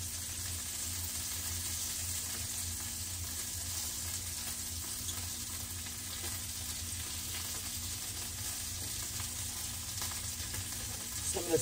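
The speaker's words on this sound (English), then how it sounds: "This bacon cooked a little crispy." Two bacon slices fry in a pan, giving a faint, steady hiss and crackle that runs evenly throughout, heard at a distance with no talking.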